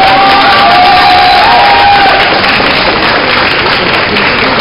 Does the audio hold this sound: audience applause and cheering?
yes